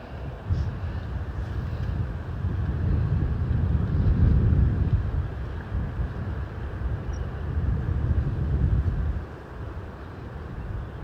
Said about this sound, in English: even with that wind